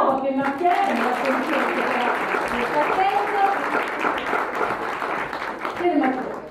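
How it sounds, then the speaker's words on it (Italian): Audience applause at a poetry event at TAM for Mattiello, steady clapping across the whole stretch with some voices mixed in. "Un applauso per Mattiello."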